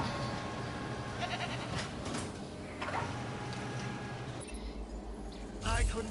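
A goat bleats inside the Jurassic World Evolution dinosaur park game, rising briefly over a dense, steady bed of game ambience and music that fills the whole stretch.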